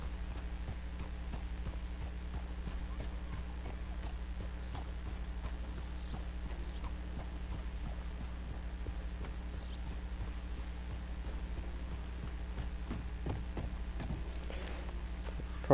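Horse hooves walking in the video game Red Dead Redemption 2, a steady clip-clop of hoofbeats over a constant low ambient hum, with no talking.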